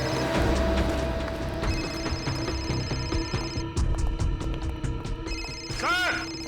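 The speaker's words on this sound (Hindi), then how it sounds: "सालुंके साहब का फोन तो यहीं पे बज रहा था ना?" A mobile phone rings nearby amid a tense search scene, with repeated electronic ringtone bursts over background bustle, while people talk in Hindi around it.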